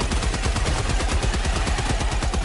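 A heavy machine gun emplacement in Helldivers 2 fires a sustained, rapid burst of loud, closely spaced shots that continue without a break.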